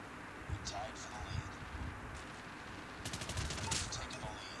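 In Call of Duty: Mobile, a rapid automatic weapon fires a fast, tight burst of shots near the end, after a few scattered earlier pops, with a voice talking over the game noise.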